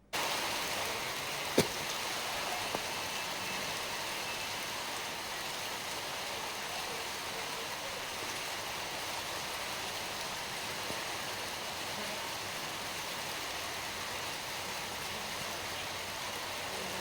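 Heavy rain pours at night in Hyderabad, a steady dense hiss of falling water with a faint click near the start, continuous and alone without voices.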